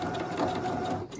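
A sewing machine stitches steadily at close range, a continuous loud motor whirr and needle chatter running throughout with a slight dip near the end.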